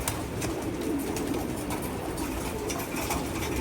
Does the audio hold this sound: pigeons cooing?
yes